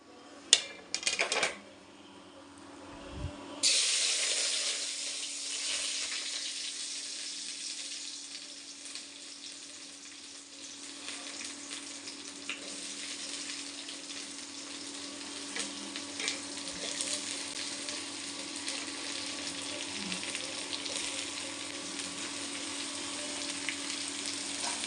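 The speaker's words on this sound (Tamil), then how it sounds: "கடுகு பொரிஞ்சிடுச்சு. வெங்காயம், கருவேப்பிலை போட்டுக்கலாம்." Onions and curry leaves tipped into hot oil with popped mustard seeds for a Tamil-style tempering, giving a loud burst followed by a steady, close sizzle and crackle that runs on alone.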